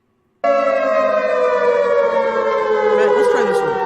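A loud civil defense siren wails steadily, its rising tone holding strong from start to finish, with a few faint voices breaking in near the end.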